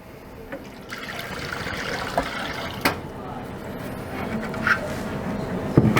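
Water pours steadily into a giant water ice machine with a broad, hissing splash, and a few knocks and clunks break through the flow.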